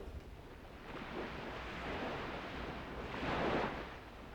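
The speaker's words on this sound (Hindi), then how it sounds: "पुरातन समुद्र" Ocean waves washing and surging in a slow, soft swell, building to a fuller rush toward the end, with a breathy, windy texture and no voices.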